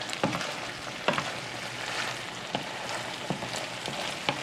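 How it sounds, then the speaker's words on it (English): Pasta for amatriciana is stirred through sizzling sauce in a pan, a steady frying hiss broken by soft scraping strokes of a utensil, close and moderately loud. "I just need to coat every single piece of pasta in this beautiful sauce"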